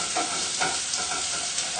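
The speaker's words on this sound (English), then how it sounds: "we just give the onions a good stir around on a high heat to start off with" Onions stirred over high heat in a pan, a steady loud sizzle with scraping stir strokes for about two seconds, close and continuous with no talking.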